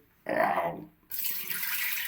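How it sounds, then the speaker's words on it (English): Water poured from a jug into the tank of a Philips LatteGo 5400 coffee machine, a short splashing pour followed by a steadier hissing trickle, close and clear with no talking. "I will pour this water in here"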